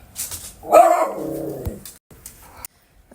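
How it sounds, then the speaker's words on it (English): A dog barks loudly and close, a few sharp barks with a short growly tail, in a quiet indoor room. "my dog barked and it was very loud"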